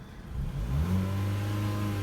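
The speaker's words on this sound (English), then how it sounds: "Engine sounds good for a little 4-banger, not too loud" A 2014 Mazda 3 Touring hatchback's four-cylinder engine revs up close, rising from idle into a smooth, moderately loud climbing drone that then holds steady.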